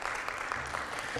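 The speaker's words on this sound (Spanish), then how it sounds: "Dale fuerte el aplauso al Rey" A church congregation applauds during worship, a brief dense burst of clapping with a low hum and faint voices underneath.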